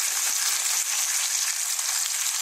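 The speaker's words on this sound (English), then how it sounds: "I just want them to brown before I put them in the slow cooker" Food browning in a hot pan before going into a slow cooker, a steady loud hiss of sizzling fat throughout the short stretch, with no voices.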